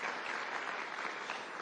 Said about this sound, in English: And I think you should applaud yourselves for that.